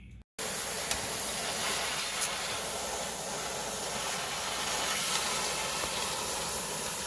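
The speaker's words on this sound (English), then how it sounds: "Got some steam coming out now." Steam hisses steadily from a hot water heater used to flush a clogged radiator, a dense, even rush of broadband noise that starts after a brief dropout and keeps up for several seconds with no talking.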